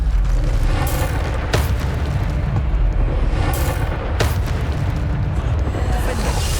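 Bombarda spell explosions in Hogwarts Legacy boom one after another inside a constant, loud, rumbling din of combat, with sharp blasts standing out about every two to three seconds.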